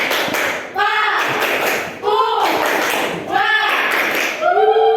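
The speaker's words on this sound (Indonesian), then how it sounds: "Tepuk Papua semuanya" A classroom of students performs the Tepuk Papua clapping chant, with voices chanting together in unison over brisk, rhythmic bursts of hand claps that repeat in several loud phrases.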